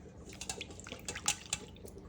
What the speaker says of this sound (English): So I'm just gonna wash it off